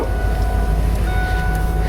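A 1993 Ford Econoline van engine runs steadily up close, with a constant low rumble and a dense, even mechanical drone that holds at the same level for two seconds with no voices.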